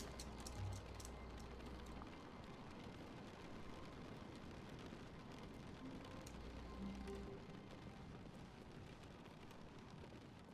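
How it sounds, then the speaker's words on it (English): Steady rain falls outside an empty office building in The Stanley Parable, a soft continuous hiss with low rumbling wind-like noise, faint and even throughout with no voices. "It sounds like rain outside."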